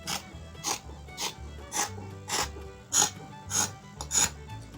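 Scissors cut through fabric for a pair of homemade shorts, giving a steady series of about nine crisp, close snips spaced roughly half a second apart, with no talking.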